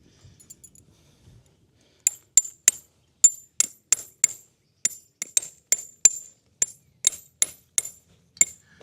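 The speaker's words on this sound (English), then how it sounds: "Now I do have a stake hammer." Sharp metallic strikes ring out one after another in an irregular rhythm, a stake hammer driving tent stakes for a Coleman Carlsbad tent after a quiet start.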